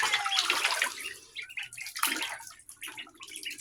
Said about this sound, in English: I think this is the second bath for the Indian runner ducklings